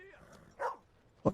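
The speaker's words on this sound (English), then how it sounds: "Little blue tick coon hound." A bluetick coonhound in the Red Dead Redemption 2 video game gives two short, close barks about half a second apart, with a soft whine trailing off before them.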